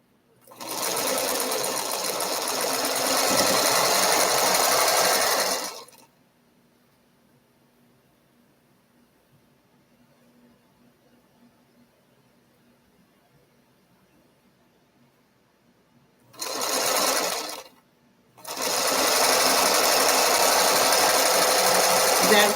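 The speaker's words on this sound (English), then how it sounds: "Is that sewing machine making too much racket?" A sewing machine runs while quilting, loud whirring bursts alone in the room: a long run of about five seconds, a long silent pause, then a short burst and another sustained run.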